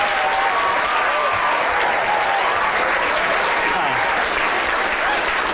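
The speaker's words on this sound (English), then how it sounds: "Big round of applause." A lecture-hall audience applauds a row of volunteers standing up, sustained thick clapping from many people that stays loud and even throughout, with faint voices mixed in.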